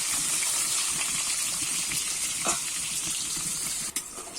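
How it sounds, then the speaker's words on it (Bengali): Sliced eggplant fries in a pan of hot oil with a steady, loud sizzle that carries on throughout, and a brief clatter near the end. "এবারে দিয়ে দেবো কেটে রাখা বেগুনগুলো"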